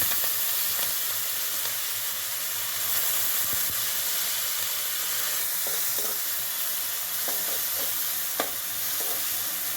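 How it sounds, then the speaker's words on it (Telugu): Green chillies and curry leaves fry in hot oil in a pan for a cauliflower egg curry, giving a continuous close sizzle and hiss with occasional stirring clicks, no speech. "ఆయిల్లో ఫ్రై చేసుకోవాలి"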